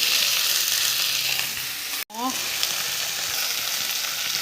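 Food fries in hot oil with salt and turmeric. A loud, continuous sizzle breaks off for a moment with a brief dip and a small scrape, then resumes just as strongly.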